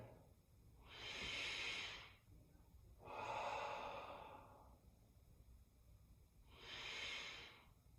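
Three slow, audible breaths drawn in and let out during a ukemi core and flexibility stretch, each a soft airy swell lasting about a second, spaced apart with quiet pauses between, close and fairly faint.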